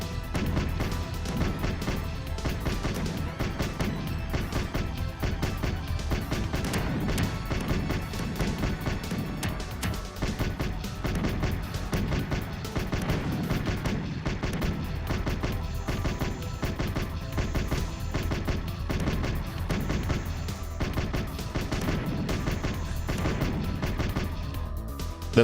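Continuous barrage of video game explosions and missile impacts, dense and loud, with rapid crashing blasts and gunfire-like bursts throughout and no talking.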